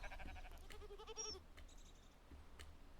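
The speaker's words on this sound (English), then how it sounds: "The black sheep, there it is." A black sheep in the video game Rising World gives one quavering bleat, quiet and fairly close, over a faint steady outdoor ambience with a few soft clicks afterward.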